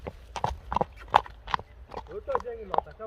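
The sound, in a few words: horse hooves clip-clopping while walking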